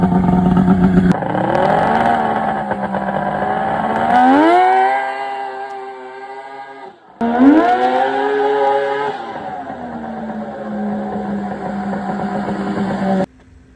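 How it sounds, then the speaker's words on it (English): A car accelerates hard, tires spinning and leaving rubber on asphalt, its engine rising in pitch through two loud, sustained pulls with a brief drop between them, close and with no talk. "how the hell am I spinning the tires and leaving rubber on the asphalt and something hasn't broken yet?"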